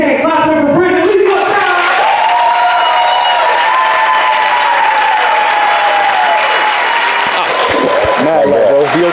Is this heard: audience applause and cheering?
yes